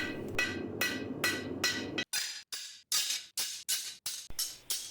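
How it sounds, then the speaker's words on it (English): Hammer blows forging a Damascus steel knife billet, a steady series of about a dozen sharp metallic strikes in quick rhythm, close and loud, with the workshop hum dropping away after the first few. "And back to forging on the Damascus."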